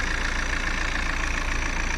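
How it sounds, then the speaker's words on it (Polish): A Saab 9-3 1.9 TiD diesel engine from 2007, rated at 150 horsepower, idles close by with a steady, even, continuous rumble and no talk over it. "Silnik odsyje ładnie równo i naprawdę dynamicznie przyspiesza."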